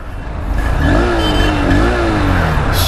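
A Honda Hornet 2.0 180 BS6 motorcycle with fuel injection and electric start is cranked up, then its engine idles loudly close by and rises and falls through a couple of revs.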